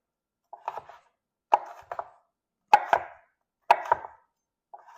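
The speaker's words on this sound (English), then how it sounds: "And cut across." A knife cuts cauliflower on a board in crisp, close chops, five separate cuts about a second apart, each a sharp strike with a short crunchy tail and silence between.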